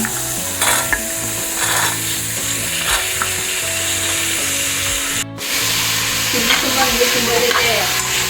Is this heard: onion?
yes